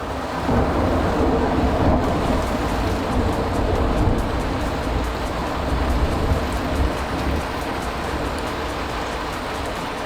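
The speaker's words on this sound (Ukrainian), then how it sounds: "За вікном у нас невеликий дощик." Light rain falls outside a window during an indoor repair of a Dnipro-M SAB 258N power supply, a steady, even wash of soft hiss with no voices.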